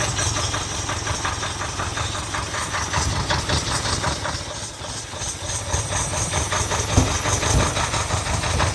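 A 1979 Ferrari 308 engine idles roughly and loudly, spitting back through both rear carburettors with an uneven, knocking pulse.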